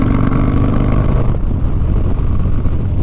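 A Harley-Davidson Low Rider S motorcycle engine drones loud and steady while riding, a deep low rumble with a slight shift in tone partway through, with no talk over it.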